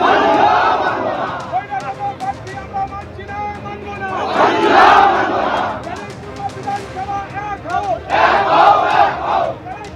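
A large protest crowd of party supporters shouting in a street demonstration, with loud waves of massed yelling rising and falling in roughly three surges over a general crowd babble.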